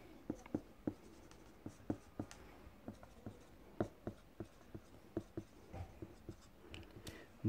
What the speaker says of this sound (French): Donc, on va dessiner un tableau.